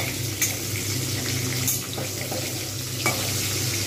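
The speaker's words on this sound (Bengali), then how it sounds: "আমি এইরকমভাবে একটু ভালোভাবে ভেজে নেব, যাতে কাঁচা ভাজটা চলে যায়।" Spices frying in hot oil in a pan for a Bengali hilsa fish curry: a steady, close sizzle with a few brief scraping stirs across it and no talking.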